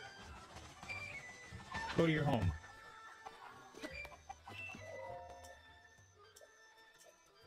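A chicken in The Legend of Zelda: Breath of the Wild gives a loud squawking cluck burst, followed by fainter clucks and game sounds while a person talks over it.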